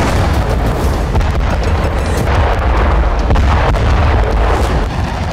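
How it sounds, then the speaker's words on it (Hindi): Loud, continuous rumbling blast noise from a Ukrainian missile attack in Crimea, a dense low roar with crackling bursts running steadily throughout. "क्रीमिया में इस बार यूक्रेन ने बहुत बड़ा ब्लास्ट कर दिया है, ऐसा ब्लास्ट जिससे क्रेमलिन में खलबली मची हुई है।"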